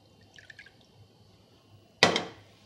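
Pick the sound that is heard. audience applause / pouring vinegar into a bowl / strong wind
pouring vinegar into a bowl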